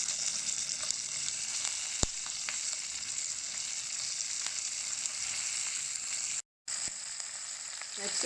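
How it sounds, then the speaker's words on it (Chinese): Shrimp-stuffed bell peppers sear in a pan, giving a constant bright sizzle of frying oil with a sharp click near the start and a momentary dropout later, no talk over it. "给它煎透一点才会好吃，所以不要急着翻面，让它煎到稍微有点微焦"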